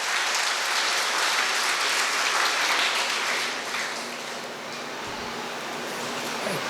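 Audience applause at a school Founder's Day celebration, a loud, dense wash of clapping from a large crowd that holds steady, then eases slightly before swelling again.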